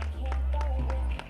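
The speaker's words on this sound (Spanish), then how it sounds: "Haz ese aplauso para estas campeonas." Brief applause from a crowd honoring female race champions at a San Silvestre run in Plasencia, short claps over a loud low rumble, with talk mixed in.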